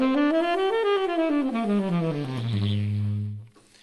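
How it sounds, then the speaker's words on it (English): A single melodic instrument plays a Lydian augmented scale, rising then descending smoothly, ending on a sustained low note that fades out. "I would play a flat Lydian Augmented. It would sound like this."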